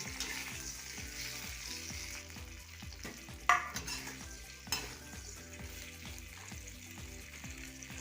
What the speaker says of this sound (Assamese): এতিয়া এয়া বেঙেনাখিনি ভাজিম।